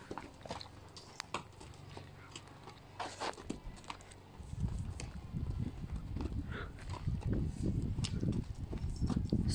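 A horse walks at a stable on an outing, its hooves clip-clopping in irregular steps that grow denser and louder midway, with faint background sounds.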